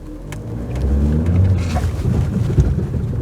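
A Renault Koleos 2.0 dCi 190 SUV drives in 4x4 auto mode across a slippery, snowy lot. Its engine gives a steady, loud, low rumble throughout, with a rough, scrubbing undertone of tires on snow.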